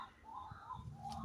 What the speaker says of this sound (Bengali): আর কত রকম যে পাখি ডাকছে